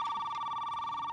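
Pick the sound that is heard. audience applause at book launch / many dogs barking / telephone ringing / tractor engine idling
telephone ringing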